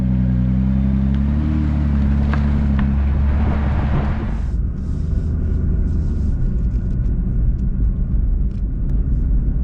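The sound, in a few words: Nissan 2020 GT-R driving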